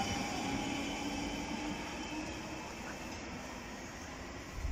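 A London Underground train at Woodside Park station makes a steady, moderately distant rumble with a faint high whine running through it and no clear change in level.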